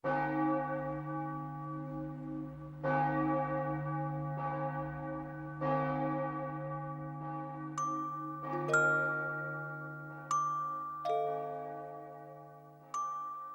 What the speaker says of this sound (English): The first thing we literally hear at the very beginning of the show, Session 1's flashback, is the sound of church bells.